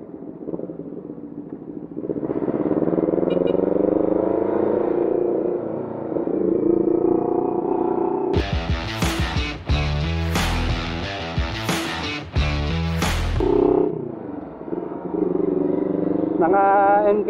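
A Bajaj Dominar big bike rides past nearby on the road, its engine rumbling and revving loudly with rapid throttle blips in the middle, heard over steady road and wind noise with some talk.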